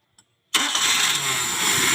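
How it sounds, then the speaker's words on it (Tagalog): A Nissan Sentra engine with a newly installed carburetor fires up after a single brief click, catching instantly into a loud, steady, broadband idle close by. "Tsaka nyo i-start yung makina."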